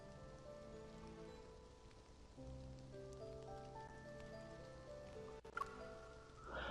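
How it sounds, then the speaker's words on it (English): Rain falls by a lake in the video game Love & DeepSpace, a faint steady patter of drops on surfaces beneath soft sustained music tones, with no voices. "A sudden downpour interrupts our lakeside stroll."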